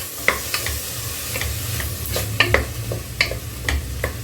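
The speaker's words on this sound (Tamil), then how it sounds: "இப்போ நான் போட்டுட்டேன் இதை நல்லா நம்ம வதக்கி விட்டுக்கலாம்" Watermelon rind sizzles steadily as it is sautéed and stirred in a pan, with a low hum underneath and repeated sharp clicks and scrapes of a spoon against the pan, close and without speech.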